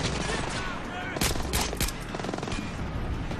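Steady gunfire at enemies in Splinter Cell Blacklist, a dense continuous barrage with a few sharper, louder shots, loud and close throughout.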